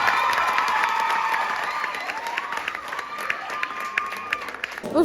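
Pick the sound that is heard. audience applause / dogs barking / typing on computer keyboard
audience applause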